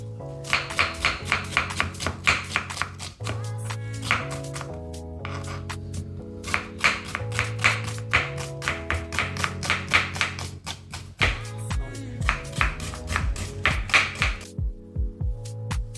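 Garlic and ginger get chopped on a board with a knife, a steady run of sharp close taps in quick rhythmic bursts with brief pauses between them.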